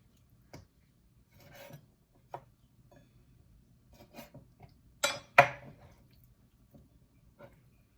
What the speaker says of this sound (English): So this monkfish, I'm just going to chop it a little bit more smaller, like a bite size